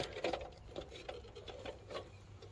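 Screws being driven tight with a T25 bit during repair work after a tree took down a power line, a whirring drill buzz in short bursts with faint clicks, fairly quiet and close.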